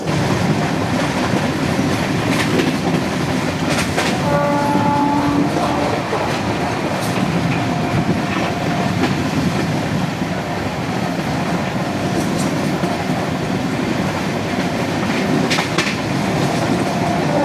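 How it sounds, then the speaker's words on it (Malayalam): Mandovi Express train passing along the Konkan Railway, a steady loud rumble of rolling wagons with rhythmic wheel clatter and brief squeal tones, sustained close by throughout. "അപ്പോൾ അങ്ങനെ മാണ്ഡവി എക്സ്പ്രസ് വന്നു."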